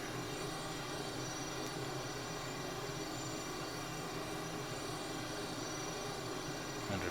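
A T-37B Tweet jet takes off in Microsoft Flight Simulator, giving a constant, even engine roar and hiss that holds steady throughout without a break.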